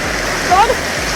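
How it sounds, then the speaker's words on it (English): Fresh water rushes steadily down the hillsides into a Scottish sea loch near Oban, a continuous broadband roar of a stream or waterfall heard nearby, with a brief voice-like sound briefly rising above it. "we could hear the water flowing down the hills"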